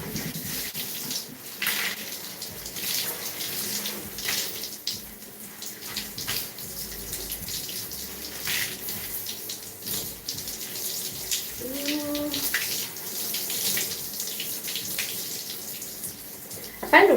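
Running tap water pours steadily throughout a hair-washing session for type 4 hair, a continuous close splashing wash with brief squeaky tones near the middle and no talk.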